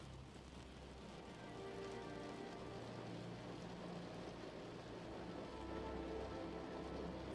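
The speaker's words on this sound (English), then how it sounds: "the sound of the rain" Soft, steady rainfall patters on surfaces as a faint, even hiss with no distinct drops or voices.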